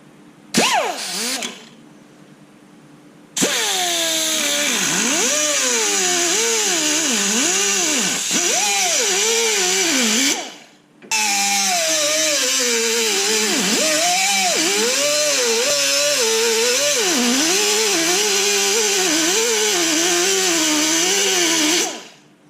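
Power tool cutting a section out of a 1993 Ford Bronco steel frame, a loud close whine that rises and falls in pitch as it bites and eases, running in long bursts with a short break.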